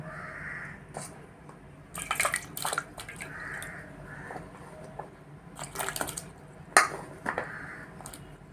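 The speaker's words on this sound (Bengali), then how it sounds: "ধুয়ে নিচ্ছি" Chopped snake gourd is rinsed by hand in water, with soft intermittent splashes and occasional clinks of a bowl or utensil, close and fairly quiet, with no talking.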